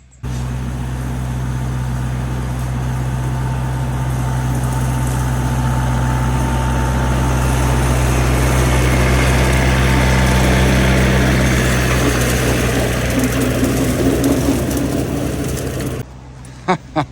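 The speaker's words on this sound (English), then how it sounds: "Young lady actually mowing grass, mowing the trail." A tractor mowing grass along a trail drones steadily at close range with a low rumbling engine note and a constant whirring blade for a long stretch. It cuts out abruptly near the end, leaving a few faint knocks.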